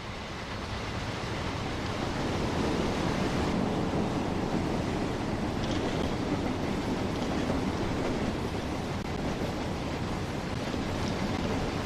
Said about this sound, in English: Like the brake rub noises.